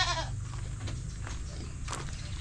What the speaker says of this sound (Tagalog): Kambing, yan na natira.